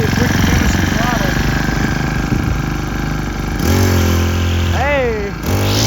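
A motorcycle engine idles loudly close by, then the throttle is opened for several rising revs that fall back to a rough idle.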